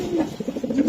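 A racing pigeon coos close by, a few soft low throaty pulses in quick rhythmic succession, alone without talk.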